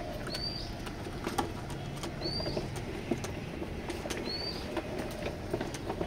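Pigeons at a pigeon loft keeping a male pied Maxi: soft low cooing and light wing flutter, with three short, evenly spaced chirps over a faint, steady background.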